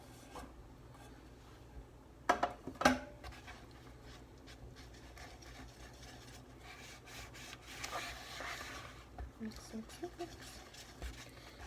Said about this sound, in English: And you're going to want to stir it until there's no clumps left